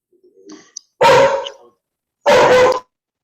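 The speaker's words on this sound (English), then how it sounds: "Sorry, I hear a dog somewhere." A dog on a community policing council meeting call barks twice, each bark sharp and loud, with a short gap between them and quieter vocal sounds just before.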